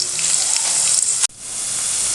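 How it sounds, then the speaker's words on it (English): Steady hiss of onion sizzling in a hot pan, continuous and fairly loud, with a brief dip near the middle before the frying noise resumes. "You can see the onion is now frying. It's frying very well."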